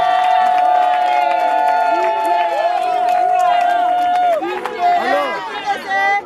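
An audience at a 50th birthday celebration cheers loudly with shrill whistles and whoops, scattered clapping and crowd voices mixed in.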